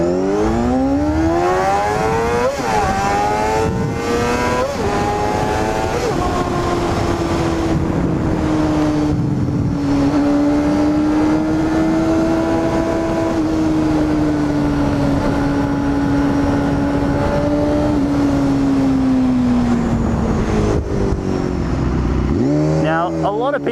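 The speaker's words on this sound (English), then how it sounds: "One of the best things about these little 4-cylinder 250s has got to be the sound." A Honda CBR250RR four-cylinder 250cc motorcycle engine screams at a high, steady whine, its pitch rising and falling slightly as it holds revs, loud and continuous.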